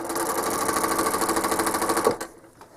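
A sewing machine rapidly stitching a quilt with a steady fast mechanical chatter, close and loud, stopping abruptly near the end with a soft click.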